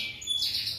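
A high-quality F1 canary sings a brief, bright run of chirps and trills, close and clear over faint background hiss.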